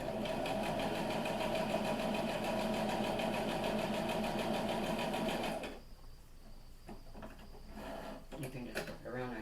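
A sewing machine runs steadily, stitching a pinwheel quilt block along a quarter-inch seam line, a loud continuous mechanical whir for about six seconds before stopping, followed by quieter handling and thread-cutting clicks.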